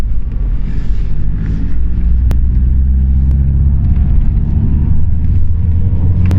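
A 1.9 TDI diesel vehicle with 400,000 km on it, heard from inside while driving on a small country road, a steady low engine rumble and road noise with a couple of brief clicks.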